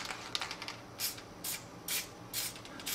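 Short bursts of RSM spray lubricant hissing from a shaken aerosol can onto urethane bushings of an E46 BMW, about four or five close, even spurts separated by brief pauses.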